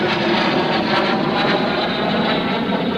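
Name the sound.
L-39 jet aircraft making a pass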